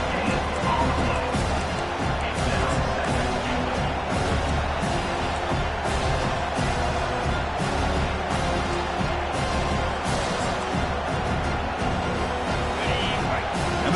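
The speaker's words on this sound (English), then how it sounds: "Crowd coming to life here trying to help this defense down in the red zone." A dense stadium crowd roars and cheers near the goal line in the NCAA 25 college football video game. The noise is loud and sustained, with broadband swells and voices mixed in.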